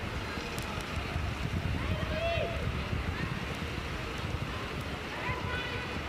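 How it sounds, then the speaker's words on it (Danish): Heavy rain pours onto the stands of a stadium during a women's football match in the 2018 Algarve Cup, Denmark against the Netherlands, making a dense, steady roar like a nearby motorway, with faint voices in the background. "Det lyder som sådan en motorvej, der ligger lige ved siden af, når regnen falder ned over tribunerne."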